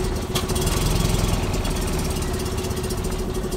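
A Fiat 126p's small engine idles steadily just after starting, a close, loud, continuous rattling drone with no talking over it.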